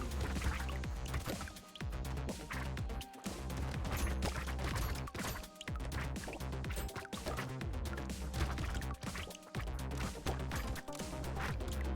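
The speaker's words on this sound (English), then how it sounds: "Starting to see the explosions a little bit more on the map with when we kill some of these enemies" Dense bursts of explosions pop and crash as enemies are killed in the video game Brotato, rapid overlapping blasts over a constant busy soundtrack with no pauses.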